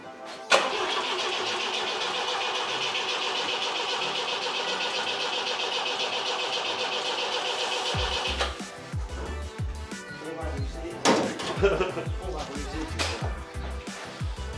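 A 1971 vintage car engine whirs steadily for several seconds without firing, then sputters and catches into an uneven, close idle. People talk over the engine.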